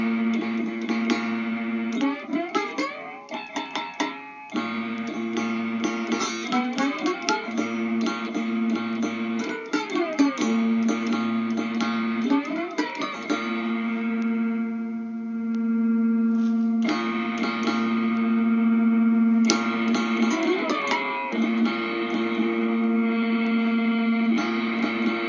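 Electric guitar from a Choc Box played through a Nembrini Crank V2 distortion effect with a preamp, giving loud, saturated single tones and bends with steady sustain, played alone.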